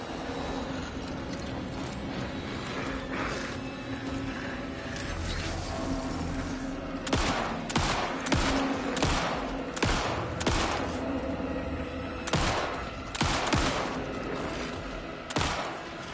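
Gunfire and mechanical clanks from the video game Alan Wake 2, with loud, sharp shotgun-like blasts repeating in an irregular burst over a busy, dense game soundscape in the second half.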